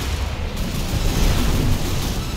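Loud missile explosions boom in Armored Core 6: Fires of Rubicon, a dense, continuous rumble of blasts and bursts close up, with no voices over it.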